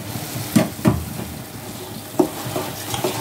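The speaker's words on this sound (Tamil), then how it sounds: "சேர்த்து இந்த தக்காளி நல்லா கொஞ்சம் பொரியணும்" Ground tomato sizzling in hot oil for a prawn gravy, a steady frying hiss with a few clear scrapes and clinks of a spoon stirring against the pan, close up with no talking.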